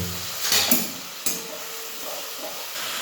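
A spice mixture loosened with a little water hisses in a hot pan while being stirred, with a couple of sharper scraping bursts of the spoon against the pan over a continuous low sizzle.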